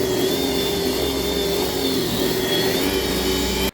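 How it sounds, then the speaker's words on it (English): An Ozito electric lawn mower runs steadily up close, giving a continuous motor hum with a thin high whine, much like a vacuum cleaner, until it cuts off abruptly at the very end. "electric lawnmower runs at a volume that's quite comparable to a vacuum cleaner"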